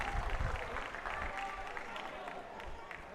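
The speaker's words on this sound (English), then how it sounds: "Davao in applause." Crowd applause at a Philippine Football League match in Davao, Davao Aguilas UMak against Maharlika Taguig, after a penalty is awarded, a steady distant wash of clapping and murmur with a commentator's voice over it.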